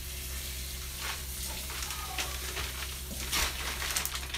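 Hot egg and Velveeta cheese mixture being stirred in a pan, a steady soft sizzle with scraping and stirring noises, close and continuous without talk.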